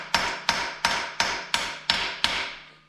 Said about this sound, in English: Just tapping a smaller socket on,